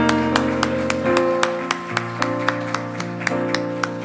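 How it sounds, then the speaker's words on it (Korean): A church congregation claps in a steady rhythmic beat along with sustained keyboard music, with crisp, evenly spaced claps running through the short passage. "우리 교회에 새 일을 행하실 하나님 앞에 감사와 찬양의 박수 올려드립니다."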